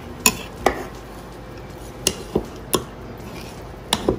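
Mutton pulao served from a pot, with metal utensils clinking and scraping against the cookware in about eight sharp, irregular hits, close and clear.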